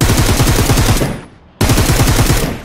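Close, loud bursts of automatic rifle fire in the mobile shooter Peacekeeper Elite on a desert island map: one dense rattling stream of shots, a short lull, then a second equally rapid burst.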